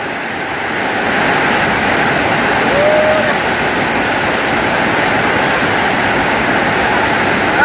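Floodwater rushes past outside a house after heavy rain, a loud, continuous roaring wash close by that never lets up.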